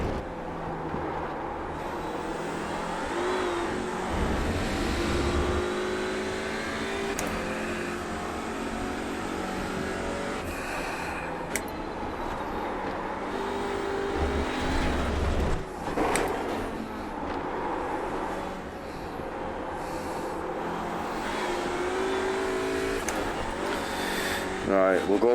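An Audi RS 3 LMS race car in the iRacing game lapping Mid Ohio, its engine droning and shifting pitch through gear changes and braking, steady throughout with occasional bumps and thuds.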